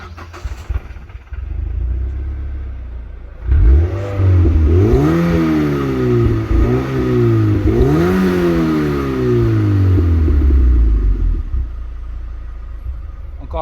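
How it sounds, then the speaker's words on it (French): A Mazda MX-5 NC sports car engine revving nearby, two or three sharp blips of the throttle rising and falling in pitch, with an idle before and after. "Encore un coup de gaz."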